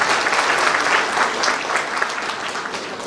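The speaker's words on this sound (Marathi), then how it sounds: "आपण त्यांच्यासाठी जोरात टाळ्या वाजवूया" An audience at a hospital and college function applauds, a dense burst of many hands clapping close and loud that eases slightly toward the end.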